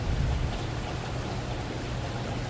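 Rain falls steadily at night outside a front door, a dense, even hiss with a low rumble beneath, constant and fairly close with no voices.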